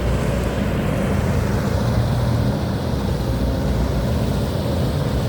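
Steady diesel rumble of a Kobelco SK140LC-11 excavator engine with 6,100 hours, idling smoothly while working at a pit edge. A loud, continuous low drone with no talk.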